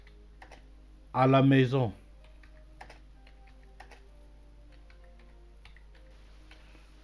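Light, scattered keystrokes tap on a computer keyboard, sparse close clicks spread through the stretch, with a short spoken phrase near the start.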